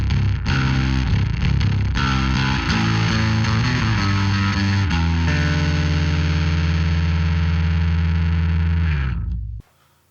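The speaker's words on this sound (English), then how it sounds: "now you're going to hear it with distortion" A distorted bass guitar through a Darkglass Tone Capsule preamp plays loud, gritty sustained notes with a fuzzy, saturated edge, shifting pitch a few times before cutting off abruptly near the end.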